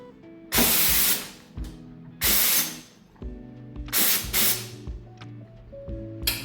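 Loud bursts of hissing steam from the steam wand of a Nuova Simonelli Appia Life espresso machine come in short blasts, three or four of them separated by pauses, with faint clicks and hums between.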